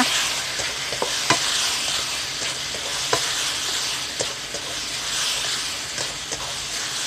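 Beans and minced pork stir-fried in a pan for Thai holy basil pork: a steady loud sizzle fills the clip, broken by repeated sharp scrapes and clacks of a spatula, with no talking.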